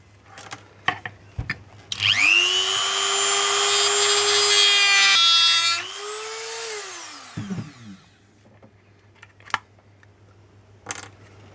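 A rotary cutting tool grinds through a plastic tab on an XRAY 808 RC car chassis, a loud, high whining buzz lasting about four seconds that dips in pitch under load, with clicks and handling noises around it.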